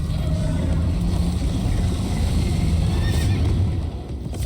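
A horse in the video game Minecraft: Story Mode whinnies over a dense, continuous rumble of galloping hooves and motion, loud and close, with no talking.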